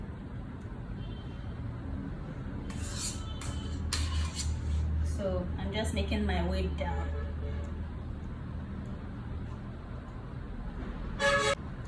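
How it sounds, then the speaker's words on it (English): A car horn toots in short bursts amid steady road traffic noise nearby, with a person talking over the background rumble. "the sounds of vehicles. I am very close to the road,"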